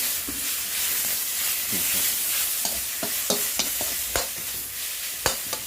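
Pork stir-frying in a hot pan gives a steady loud sizzle and hiss, with regular scraping and clacking strokes of a utensil against the pan cutting through the frying noise.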